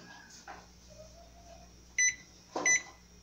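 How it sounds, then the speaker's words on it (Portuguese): A microwave oven hums faintly and steadily while buttons are pressed, giving two sharp, loud beeps near the end. "Tampo, coloco no micro-ondas, tá?"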